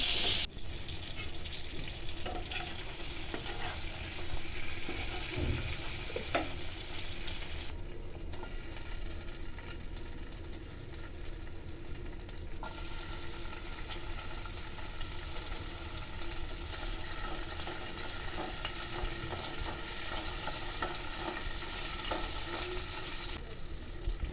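Green tomatoes fry in hot oil with a steady, dense sizzle that holds throughout, broken by occasional soft clinks and stirring noises in the pan; no one speaks.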